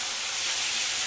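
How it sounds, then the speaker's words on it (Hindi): Tomato paste hitting sizzling ginger, garlic and onion in a pan while making restaurant-style dal makhani gives a steady, loud hiss that fills the whole moment with no voices. "अब इसमें 2 टमाटर का पेस्ट ऐड करेंगे और इनको भी अच्छे से"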